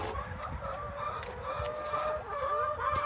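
Chickens clucking and murmuring inside a muddy winter coop on an Indiana family farm, a continuous overlapping chorus of close clucks with occasional louder calls.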